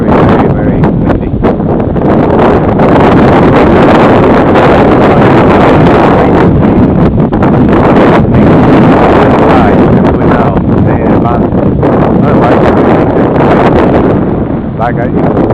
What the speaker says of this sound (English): Wow, very, very, very windy.